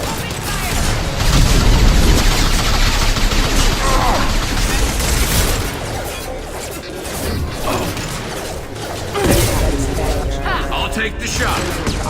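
Gunfire in a Mass Effect 2 firefight on Illium, with dense bursts of shots, crashes and impacts that are loudest early and continue through the clip, mixed with game effects and brief voices.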